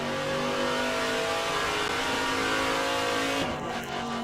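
VK Commodore Group C touring car engine in the rFactor2 racing game at Bathurst, a loud steady high-revving drone held throughout with a brief dip near the end, no talk.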